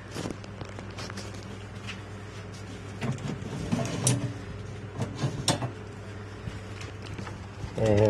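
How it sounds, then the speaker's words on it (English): A PDMS resin vat is lifted out of a 3D resin printer, giving quiet clacks, knocks and sliding scrapes of plastic parts at close range against a low steady hum. "Obviously I've got my PDMS resin vat here, so let me just remove that."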